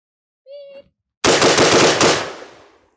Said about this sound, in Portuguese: Eu acho que eu dei 7 disparos agora.